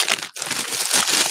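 A stiffened plastic bag, hardened by contact with a medical tissue cover, being crinkled up close; steady dense crackling and rustling for over a second, with a brief pause near the start.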